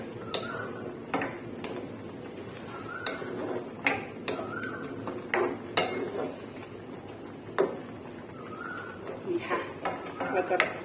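A spoon scrapes and taps against a pot of rice with white lingzhi mushrooms and pork belly over medium heat, in irregular strokes, close up, with faint clicks and a low background hum between.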